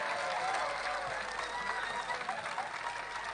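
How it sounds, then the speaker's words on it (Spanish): An audience at the provincial Salami Festival applauds steadily, a dense wash of clapping from a crowd that holds at an even level throughout. "Vamos con el último. ¡Aplauso fuerte!"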